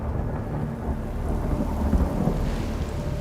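A steady thunderstorm with heavy rain and a deep, low rumble of thunder swelling in the middle, continuous and with no talk.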